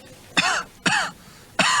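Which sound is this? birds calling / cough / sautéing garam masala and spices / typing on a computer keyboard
cough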